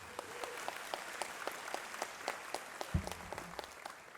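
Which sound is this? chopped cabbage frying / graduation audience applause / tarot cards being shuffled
graduation audience applause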